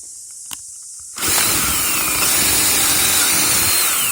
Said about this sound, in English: So we're drilling now.